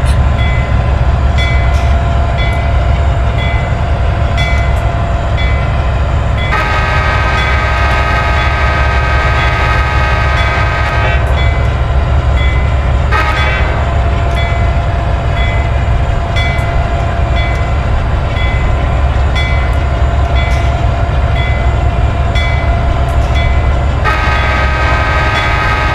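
CSX GE AC6000CW diesel locomotive in the video game Train Simulator 2019: a loud, steady engine drone runs throughout, and several horn blasts sound over it, with no voices.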